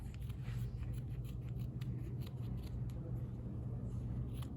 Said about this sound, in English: you want a nice sharp pair of scissors to do this